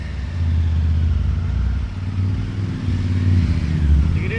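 A motorcycle rides through heavy mountain traffic on a trip from Jammu to Drass, its engine a loud, close, steady low rumble with slight throttle swells and no talk over it.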